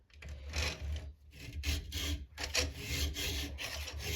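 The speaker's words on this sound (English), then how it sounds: "I'm down there sharpening it back to the line." A Stihl 2-in-1 sharpener files the teeth of a chainsaw chain, giving close, rhythmic rasping strokes of metal on metal. About six back-and-forth passes come with short gaps between them.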